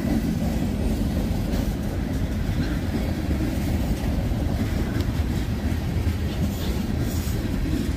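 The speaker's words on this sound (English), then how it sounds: "There's 380 some cars on here. I don't know the exact count, but this is a good sized train." A long freight train of roughly 380 cars rumbles steadily past nearby, a continuous roar with faint rail clatter throughout.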